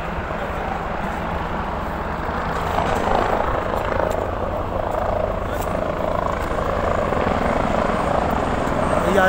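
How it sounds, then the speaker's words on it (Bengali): A helicopter flying near the Kedarnath helipad in the Himalayas, its rotor throb steady and continuous, swelling slightly in loudness partway through, with faint voices around. "এই আর একটা হেলিকপ্টার যাচ্ছে।"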